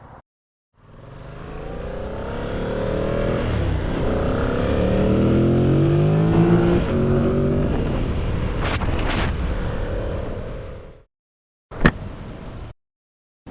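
A motorcycle pulls away in traffic, its engine note swelling and climbing through rising gear sweeps for about ten seconds before cutting off, followed by a short sharp burst of wind noise.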